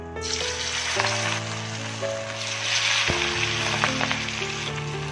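Vanjaram fish pieces deep fry in hot oil with a dense, steady sizzle and bubbling, close and continuous, over a faint background hum.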